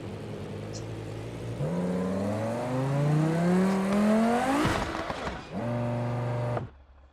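A car engine idles and then revs up, rising in pitch over several seconds before cutting off. After a short drop it revs again briefly and then stops, fairly close, with no voices.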